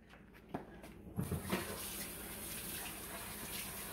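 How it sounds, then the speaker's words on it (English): Water runs from a tap for hand washing, starting after a soft knock or two and then flowing as a steady, fairly quiet rush. "Now come over here and wash your hands."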